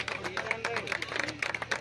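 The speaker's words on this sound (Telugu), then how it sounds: "అందరూ కూడా క్లాప్స్ కొడదాం." Scattered hand claps mixed with crowd murmur at an engagement ring ceremony, close and fairly quiet, with background chatter throughout.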